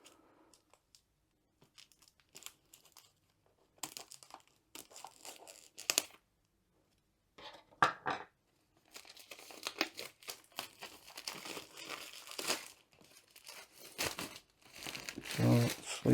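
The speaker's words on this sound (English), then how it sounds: "The box is sealed with cellophane to prevent any dust or anything from getting inside. So the first thing we have to do is remove that." Cellophane wrapping crinkles and tears as it is peeled off a sealed craft kit box, in scattered bursts of crackling with short pauses between, close and fairly quiet, with a voice talking briefly.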